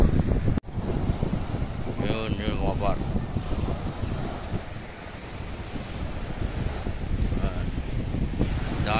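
Strong wind roars steadily into the microphone by the sea, with waves washing underneath and faint voices in the background.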